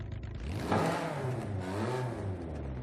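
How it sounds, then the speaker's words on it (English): Alfa Romeo 155 V6 engine in the racing game Forza Horizon 5, revving in a smooth rising and falling whir, steady and moderately loud with no talk over it. "Listen to that V6 racing, though."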